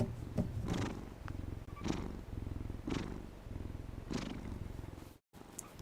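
A house cat purring close by, a low rumbling purr in repeated breathing cycles, each swell rising and fading at a steady pace, with a brief silent gap near the end.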